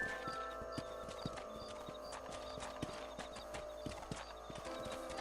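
Horses' hooves clip-clop in a steady walking rhythm while riding in Red Dead Redemption, with an occasional whinny, creaking tack and a faint background ambience, no talking over it.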